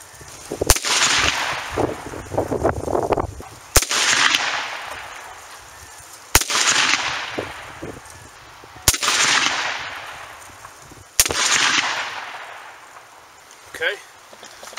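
.223 rifle firing five reloaded rounds at a shooting range, five sharp, loud gunshots spaced roughly two to three seconds apart, each with a ringing decay, with someone talking faintly between shots.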